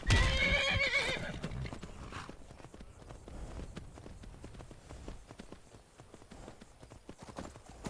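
A horse in Skyrim whinnies loudly at the start, followed by a steady run of hoofbeats that continue at moderate level as horses gallop through the game world.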